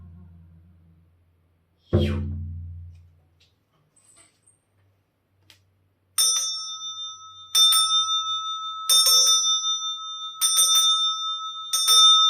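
A ringing bell sounds in a series of about five clear, sustained strikes spaced evenly apart, each chime lingering with a bright resonant tone, close and fairly loud, preceded by a single low thud.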